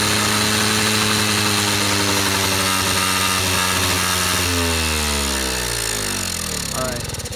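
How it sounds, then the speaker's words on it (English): A Honda Express moped with a hard-starting carburetor fires up and runs loud and close, a rough buzzing single-cylinder engine held at steady revs and then dropping away near the end. "you do the full throttle thing and it'll start up"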